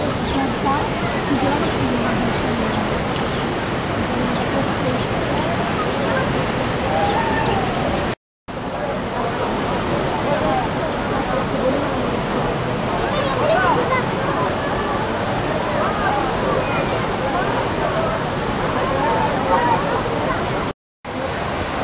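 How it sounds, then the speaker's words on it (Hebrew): Waterfall on the Iyon Stream in the Nahal Iyon nature reserve, heard as a steady, loud broadband roar of rushing water that continues without a break, close by. "אנחנו בדרך עכשיו למפל עיון, רק 30 מטר."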